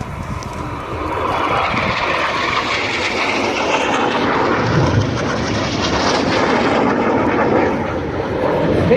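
Red Arrows BAE Hawk jets roaring overhead during the Cyclone manoeuvre at the Yeovilton air day, a loud, sustained jet engine rush that swells and holds without a break.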